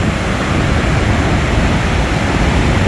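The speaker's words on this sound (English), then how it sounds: "Just the churning of the water down here is crazy" Powerful waterfall water churns at the bottom of Tallulah Gorge, Georgia, a loud, steady, close roar of broadband rushing with no pauses or voices.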